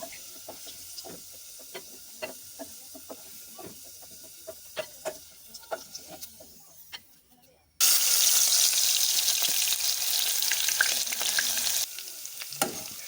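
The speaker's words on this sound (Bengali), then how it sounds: "একই প্যানে পেঁয়াজ বেরেস্তাটা করে নিব" Sliced onions frying in oil in a pan for biryani beresta: quiet scattered clicks and pops at first, then a sudden loud, dense, continuous sizzle that holds steady before easing slightly near the end.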